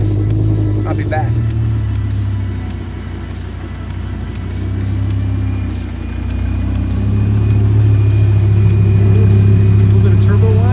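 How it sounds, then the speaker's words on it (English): A Ferrari 360 V10 engine rumbles loudly close by, easing down briefly, then swelling back up into a strong, sustained drone while someone talks over it. "Gotta love that beautiful V10 sound."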